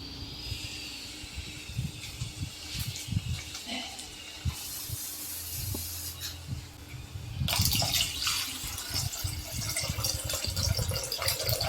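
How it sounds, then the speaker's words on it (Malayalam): Water is poured over tamarind in a kitchen while making tomato rasam, producing a running, splashing pour that grows heavier and fuller partway through. "ബാക്കി പുളിയിൽ വീണ്ടും വെള്ളമൊഴിച്ച് കലക്കി ആവശ്യത്തിന് വെള്ളമാക്കി ഒഴിച്ചു കൊടുക്കാം"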